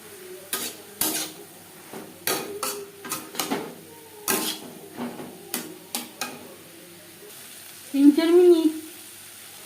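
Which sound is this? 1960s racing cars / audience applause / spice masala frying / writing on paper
spice masala frying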